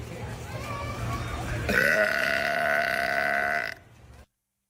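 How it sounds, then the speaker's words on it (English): A goat lets out a long, loud burp lasting about two seconds, preceded by low murmuring voices and trailing off into a short noisy tail before silence. "She'd burp anytime, anywhere."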